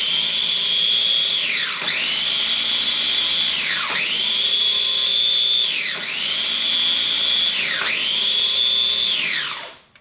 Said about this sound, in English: I'm just going to hit chop a couple of times.